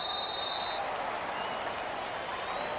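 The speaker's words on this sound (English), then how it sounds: "And the home crowd applauding." Home crowd applause in the Madden 19 football video game with the Dallas Cowboys, a steady wash of clapping and crowd noise at moderate level throughout, with a brief high whistle-like tone early on.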